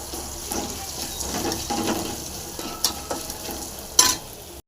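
Chopped curry leaves and boiled drumstick leaves fry in a pan for a Tamil murungai keerai stir-fry, with soft crackling sizzle and scraping stirs, one sharper clank near the end.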